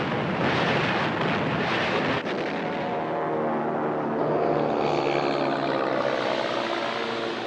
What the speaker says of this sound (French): Au matin de l'attaque, 120 appareils quittent les porte-avions pour un dernier pilonnage.